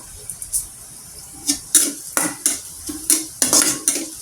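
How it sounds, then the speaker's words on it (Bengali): Whole cumin seeds frying with browned onions in a pan for data chorchori, with a series of quick metallic spoon scrapes and clinks against the pan over a soft sizzle, close and without talk. "জিরাটা সুন্দর করে ভেজে নিব।"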